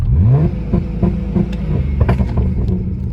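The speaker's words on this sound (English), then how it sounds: "The car already has two-step. I'll show that to you right now." BMW 335i engine held on a two-step launch control rev limiter, a loud, rough, continuous revving drone with a brief rising whine at the start and crackling pops near the end, heard close and alone.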